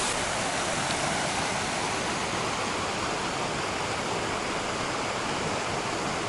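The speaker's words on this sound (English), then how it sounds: "They even have these tiny waterfalls." Small mountain waterfalls on Rysy, Poland's tallest peak, make a constant, dense rushing hiss of falling water, steady and close with no pauses.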